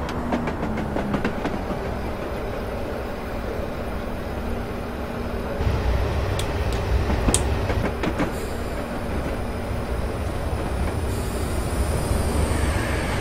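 A high-speed train in Train Simulator 2016 rushes past on the Portsmouth Direct Line with a steady roar of wheels on rails, swelling louder midway, with faint metallic squeals and clicks above it.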